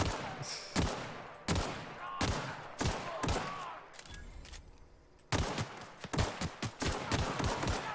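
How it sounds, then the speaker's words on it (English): Gunfire from Spacer's Choice weapons in the video game The Outer Worlds: a run of sharp, loud single shots spaced about half a second apart, ending in a quicker, denser burst of rapid fire. "the guns on those Spacer's Choice weapons are weak"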